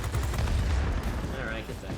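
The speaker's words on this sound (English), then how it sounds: "The enemy is launching rockets at us from the military base." Rockets launched from a military base in the World of Warplanes video game: dense, continuous rumbling fire and booming blasts, loud and sustained.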